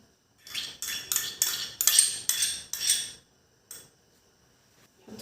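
A spoon repeatedly scrapes and clinks in a frying pan as tomato paste is added to hot oil, a run of about eight close metallic taps followed by pauses and a couple of isolated knocks.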